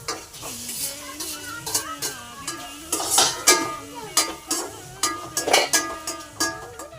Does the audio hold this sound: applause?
no